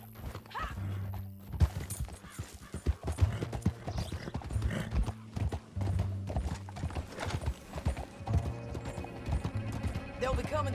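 A horse gallops in the open-world game Red Dead Redemption 2, its rapid, loud hoofbeats pounding steadily from start to finish over the game's background sounds.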